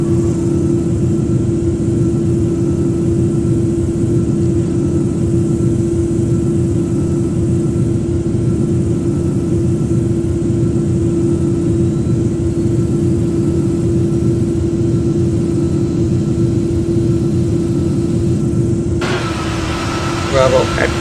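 Airbus A330 jet engines spool up in the Project Flight video game, a steady loud drone with a strong hum running unbroken throughout, joined near the end by a brief extra hiss.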